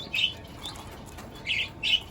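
Cockatiels in a pet shop give several short, shrill squawks in bursts, two early and two louder near the end, over a faint background murmur.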